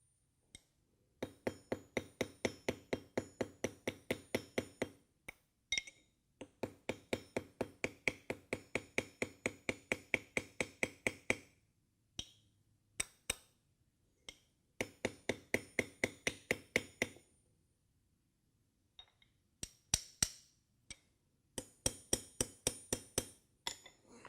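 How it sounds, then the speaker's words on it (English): Steady rapid hammer taps peening metal pins into a custom neck knife handle, bright metallic clinks in long bursts separated by short pauses, with a few isolated strikes between runs. "Okay, so now we have these pins peened in."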